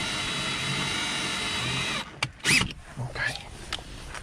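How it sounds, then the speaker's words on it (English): A cordless power drill whirs steadily for about two seconds during a windshield replacement on a 2018-2022 Honda Accord, then cuts off, leaving short bursts of workshop noise and brief knocks. "So to take my drill out, what I am doing, I am switching it to the forward motion"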